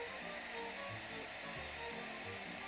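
A heat tool blows steadily to melt clear embossing powder on a stamped cardstock image, a continuous whooshing airflow with a soft hum, close and alone.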